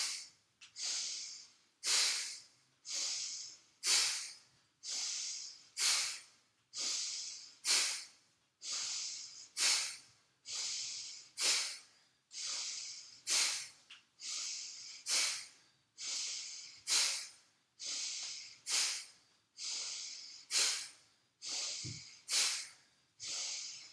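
Deep rhythmic yoga breathing during a Hatha session, about twenty forceful breaths in steady succession, each a close, airy hiss with no talking.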